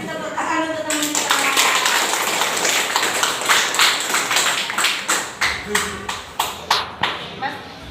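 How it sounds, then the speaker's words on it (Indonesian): A group of children clap for a classmate about to present in a school class, a fast steady patter that thins into a few slower, louder claps near the end, with talking underneath. "Kasih tepuk tangan untuk teman kita"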